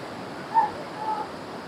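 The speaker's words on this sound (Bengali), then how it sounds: "কি বেগে এখান দিয়ে নেমে আসছে ঝর্ণার জল, তার আওয়াজ তোমরা নিশ্চয়ই শুনতে পাচ্ছ।" A forceful waterfall at the Basistha ashram in Assam roars as a steady, broadband rush of falling water, continuous and fairly loud, with no voices over it.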